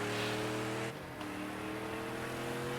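A Dodge race car engine in Project Cars 2 at a classic GT race drones at a steady high pitch, dipping briefly as if lifting off before holding again.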